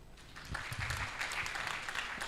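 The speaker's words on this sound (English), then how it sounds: "Let's give our chief guest a big hand clap." An audience gives the chief guest a brief burst of clapping at a report launch event, with many hands sounding together at moderate distance for a couple of seconds.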